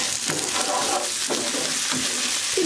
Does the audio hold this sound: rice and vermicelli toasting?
yes